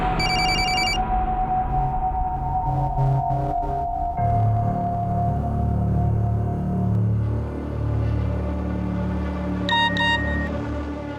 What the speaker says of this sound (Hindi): शोएब प्लीज मेरा फोन पिकअप करो, अर्जेंट है।